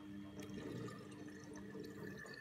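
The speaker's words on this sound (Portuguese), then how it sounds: "eu vou jogar essa água fora" Dusty cleaning water poured out of a bucket, a steady close splashing gush that runs alone for a couple of seconds.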